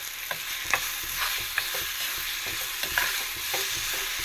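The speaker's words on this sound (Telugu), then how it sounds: "కాసేపు ఇలా ఒక్క 1 మినిట్ బాగా కలుపుకుందాం" A spoon stirs a hot tempering through mango pickle, a continuous soft sizzle with regular scraping and clicking strokes against the vessel, close and without voices.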